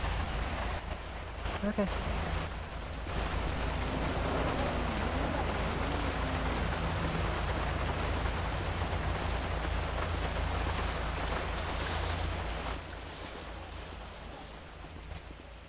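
Steady rain pours in a GTA 5 roleplay scene, a dense even hiss lasting over twelve seconds before easing slightly, with a brief spoken word near the start.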